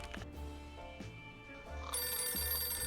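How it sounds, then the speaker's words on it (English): A telephone rings in a booth across the street in the game 60 Seconds, with repeated bell-like rings over a steady game background and a brighter, fuller ringing tone near the end; no one speaks. "The phone is ringing again in the booth across the street"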